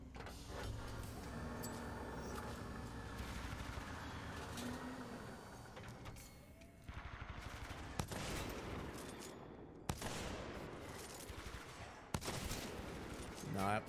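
Alternator submachine gun fire in Titanfall 2, a few rapid bursts with sharp cracks over dense game action and music, with someone talking over it.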